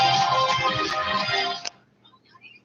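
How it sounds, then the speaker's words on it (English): A phone ringtone goes off loud and close, a dense bright melodic tone sounding steadily for about a second and a half before cutting off abruptly, with quiet room sound after. "Was that a ringtone or something?"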